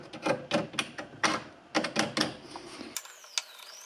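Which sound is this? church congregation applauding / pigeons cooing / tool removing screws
tool removing screws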